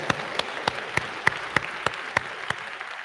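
A large audience at an academic convocation claps steadily, a dense wash of applause with a few louder individual claps standing out.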